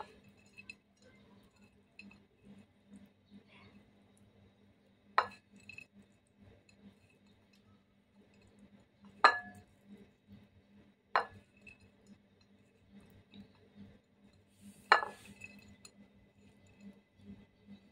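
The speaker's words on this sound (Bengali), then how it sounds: "এবার আমি মাখানো আলুগুলো একসাথে মিক্সড করছি" Mashed fried potatoes being mixed with fish by hand in a bowl give a few sparse, sharp clinks and soft squishes spaced out over a quiet background.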